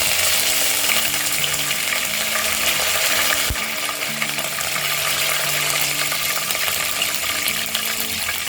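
Curry leaves frying in oil in a non-stick pan for Andhra-style bhindi fry give a loud, continuous crackling sizzle, with a single sharp clunk midway and a faint background hum.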